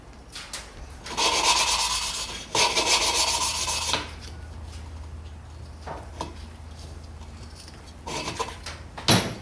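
Small engine valves are lapped against their seats with a small suction cup tool and grinding paste, giving repeated gritty rubbing strokes in bursts of a second or two, close and fairly loud, with pauses between.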